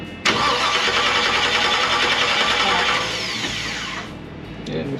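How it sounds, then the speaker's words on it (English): A 1957 Chevy V8 cranks on the starter without catching, a loud, close, continuous churning that runs for about four seconds before cutting off, with no talking over it. "Crank it again."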